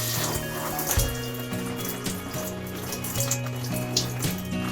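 Water trickles and drains back through small holes in a Bailey caravan tap head just after it is shut off, a soft continuous wet patter over a steady low hum, no talking.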